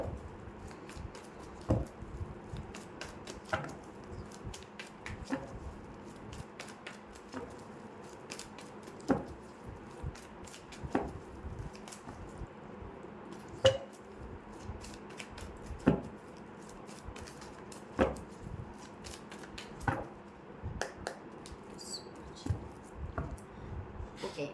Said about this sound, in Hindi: मैं यहाँ पर तब तक कार्ड शफल कर लेती हूँ